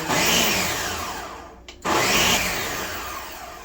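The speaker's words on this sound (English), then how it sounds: "go ahead and blend it. It's a good blender." Blender puréeing a sauce for an oxtail dish, a loud close whirring roar that cuts off briefly in a pulse and then starts up again at full speed.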